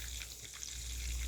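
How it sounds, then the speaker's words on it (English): Food frying on a stovetop at a medium-low setting, a soft, steady sizzle with faint crackle, close but quiet, with no talking. "I'm getting a good sizzle out of this"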